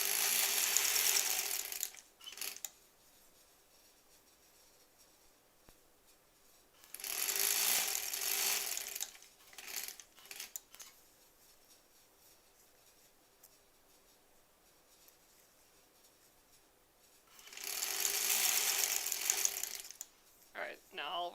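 A sewing machine stitches through layers of a granny squares quilt, with three loud bursts of rapid mechanical needle clatter separated by quieter stretches of faint handling noises.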